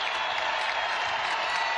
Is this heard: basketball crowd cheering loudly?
yes